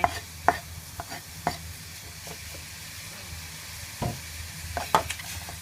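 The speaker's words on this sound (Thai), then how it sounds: "ตั้งหม้อให้ร้อนแล้วก็ใส่เนื้อสับลงไป" Minced beef fries in a hot pot for Thai larb, a steady sizzling hiss broken by intermittent scraping clatters of stirring, close and moderately loud, with no voices.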